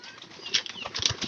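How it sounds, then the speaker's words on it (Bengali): Pigeons flap their wings close by in a short flurry of soft, rapid beats, with a few louder thumps and flutters in a second and a half. "এখনো মনে হয় ও শিবন এই কবুতর গুলার খাবার এখনো দেয় নাই, তার কারণে কবুতর গুলা খুব কষ্ট করতেছে দেন।"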